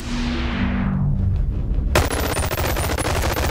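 A whole magazine emptied in Boneworks VR: after a falling whoosh and a brief lull, sustained rapid automatic fire kicks in abruptly, loud and close, continuing without a break to the end.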